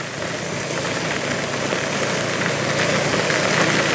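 Heavy rain pours onto a road on Nguyễn Bình Street in Nhà Bè, on the outskirts of Saigon, as a steady, dense, close hiss of water with no voices.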